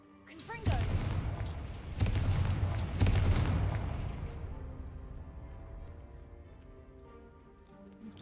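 Confringo fire-spell blasts in the Hogwarts Legacy video game: three loud booming bursts in quick succession, each with a cracking attack and a long rumbling decay that fades under faint game music.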